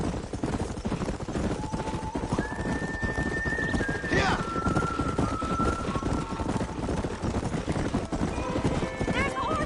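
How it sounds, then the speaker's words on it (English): Horses in the video game Red Dead Redemption clip-clop in a steady run at close range, with a short whinny near the middle and game music and voices mixed in. "There's horses!"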